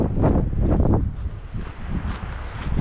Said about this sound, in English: I'm just pulling this out because it's windy right now.